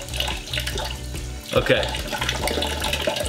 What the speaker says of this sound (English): we're gonna add 2 tablespoons of water to this glass